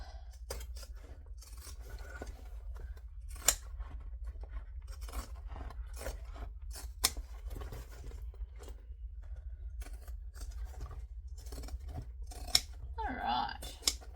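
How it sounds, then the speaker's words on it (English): Zigzag pinking scissors trim excess fabric at a sewing table, a series of sharp, sparse snips and crunches spaced out over a quiet background, with a brief voice near the end. "I'm just now going to come along and trim off the excess with the zigzag scissors to ensure that it's nice"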